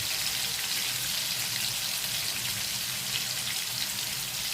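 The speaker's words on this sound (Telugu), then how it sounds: "ఇప్పుడు రెండో వైపు కూడా మంచిగా ఫ్రై అయ్యేంత వరకు ఉంచుకోవాలండి" Fish fries in hot oil in a pan, a dense steady sizzle and crackle that holds loud and even throughout with no talk.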